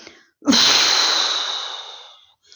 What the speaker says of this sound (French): Et puis souffle pour chasser toutes les dernières tensions